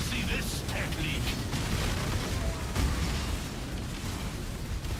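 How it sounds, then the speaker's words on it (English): Explosions from the Path of Exile video game, a dense continuous roar of blasts and bursts layered over game effects, loud and constant throughout with no clear breaks. "All I see is explosions."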